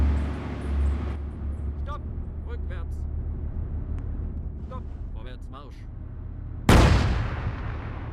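A single heavy cannon shot in ARMA 3 Global Mobilization booms out loud and close near the end, with a rumbling decay, after a stretch of steady low engine-like rumble and people talking.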